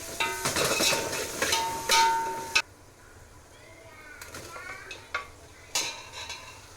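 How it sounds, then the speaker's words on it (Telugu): Onions fry in a pan for a dal dish while a spoon stirs and knocks against the metal, making clattering scrapes over a light sizzle, with quieter stirring and a few sharp taps later on. "ఇప్పుడు దీంట్లోకి ఆనియన్స్ కూడా వేసేసుకొని మంచిగా ఫ్రై చేసుకుందాము"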